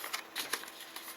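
Paper rustles and scrapes briefly as a fold is pressed into a crease while making a fighter jet paper airplane, in a few soft, close, quick strokes.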